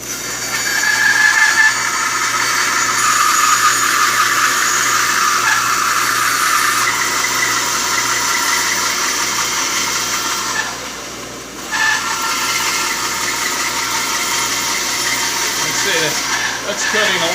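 A Delta band saw cutting wood while a dust collector runs, a loud steady machine whine and rushing air close by, with a brief dip near the end as the cut changes.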